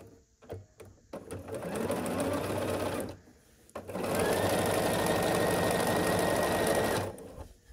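Sewing machine stitching hunter's star quilt block pieces, close rapid whirring bursts: a few short starts, then two long steady runs separated by a brief pause.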